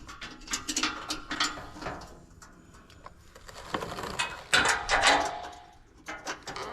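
A ratchet tightens bolts on a skid plate being installed on a 2024 Colorado ZR2 with AEV skid plates. Close, repeated clicking comes in uneven bursts with brief pauses, with no talk.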